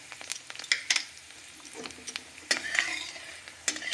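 Black cumin and dried chillies hitting hot mustard oil in a pan, a steady close sizzle broken by sharp clinks and scrapes of a spoon stirring against the pan, with no voices.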